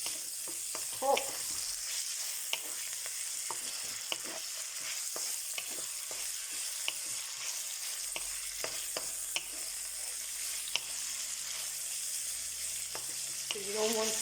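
Pad Thai stir-frying in a pan, a continuous bright sizzle with frequent clicks and scrapes of a utensil against the pan, steady and close, with no talk.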